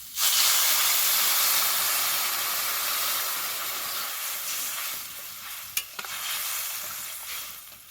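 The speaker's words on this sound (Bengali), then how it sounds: "এবার দিয়ে দেবো পরিমাণ মতো জল।" Loud, steady sizzling and hissing as water is poured into hot fried spices for a curry of fish and arum root bulbs, a continuous steamy spray of sound with a brief clink near the end.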